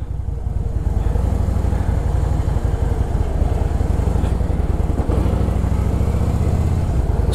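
A motorcycle runs steadily at speed on a highway, a loud continuous engine drone with wind noise close to the rider, no talking.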